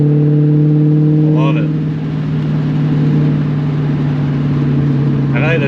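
A Ford Mustang GT with a catless X-pipe exhaust burbles at a low, steady idle with small blips of revs, while someone talks briefly over the engine.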